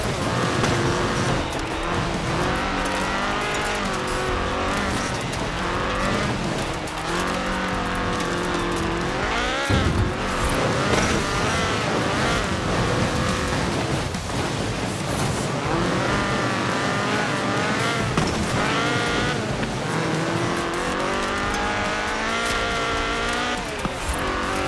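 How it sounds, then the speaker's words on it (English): Ford RS 1800 rally car with its fuel-injected 1790cc Cosworth BDE engine, driven in Forza Horizon 4: loud, continuous engine note rising and falling through gear changes, with occasional tire squeal. "This was a car designed explicitly for rallying, with a powerful fuel-injected 1790cc Cosworth BDE engine."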